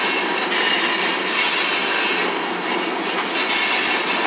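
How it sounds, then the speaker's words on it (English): A Union Pacific freight train riding its brakes through a curve at Altamont, Illinois, its wheels giving a continuous high metallic squeal over a steady rolling rumble of railcars, loud and close with no talk. "if you're wondering why he's riding the brakes, because he has to make that turn"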